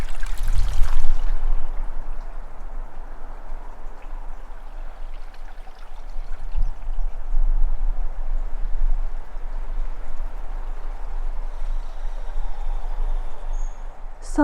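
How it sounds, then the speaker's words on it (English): A small creek flowing deep in the woods, a steady soft rush and trickle of water that carries on throughout, with distant traffic rumble underneath and faint bird calls. "but also a little creek here"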